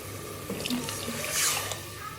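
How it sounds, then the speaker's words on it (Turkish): Water pours from a tap into a pot for vermicelli soup, a close, steady gushing splash that swells briefly midway and then settles, with no talking. "Şimdi suyumu ekleyeceğim."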